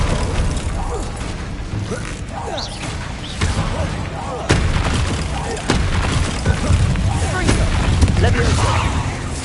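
A Descendo spell in the video game Hogwarts Legacy on PS5, heard as a string of clattering, thudding magical impacts and mechanical knocks amid busy combat effects, with a voice shouting over the noise.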